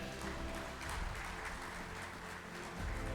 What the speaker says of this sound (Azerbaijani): Gəlin onların hər biri üçün bir daha gür alqış səsləndirək